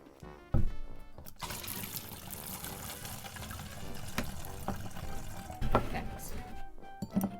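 Water is poured into a mixing container for homemade vinegar glass cleaner, a soft continuous splashing trickle heard close and fairly quiet, with a few small knocks at the start and end.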